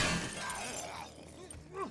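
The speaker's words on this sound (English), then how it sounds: "break that door down for me" A door being smashed and broken down in the survival video game 7 Days to Die, a short burst of loud, shattering, splintering crashes with a faint voice underneath.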